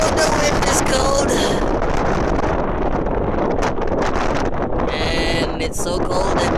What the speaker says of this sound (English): Oh, the wind is cold.